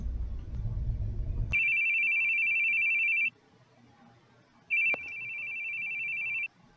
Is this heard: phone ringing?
yes